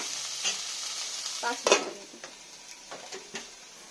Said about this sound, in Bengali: দিয়ে একটু ভালো করে ভেজে নেব লাল লাল করে।